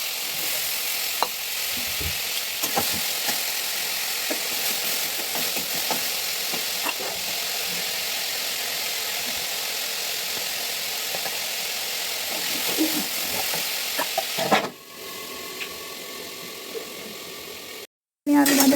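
Potatoes frying in oil, giving a steady loud sizzle that runs almost unbroken, with occasional stirring clicks, then a brief drop and a gap near the end.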